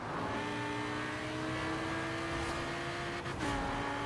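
An Audi R8 in Forza Horizon 4 holds a steady high-revving engine drone at top speed on a busy highway, loud and close, with a brief whoosh near the end as traffic passes.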